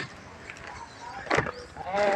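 A few short, thin goat kid bleats, one louder in the middle and another at the end, close by against faint background noise.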